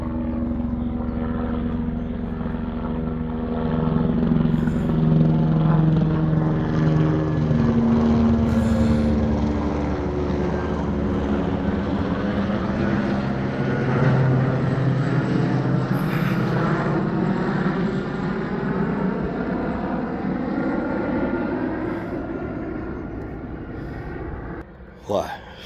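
A helicopter engine drones loudly and steadily for a long stretch, with a rising and falling pitch, while people talk over it.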